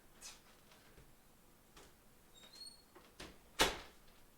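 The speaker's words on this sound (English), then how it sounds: "I'm gonna shut my door." A bedroom door is pushed shut with a foot. A few faint ticks and clicks lead to one sharp, close shutting knock near the end of an otherwise quiet room.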